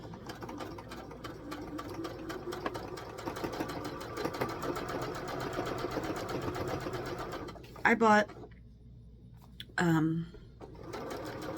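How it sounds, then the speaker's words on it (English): A sewing machine stitches steadily through a thick layer of stocking fabric, a continuous close whir running for several seconds under a person talking, then stopping and restarting briefly. "This is a lot for a sewing machine. Look how thick this is. This is a lot to push through."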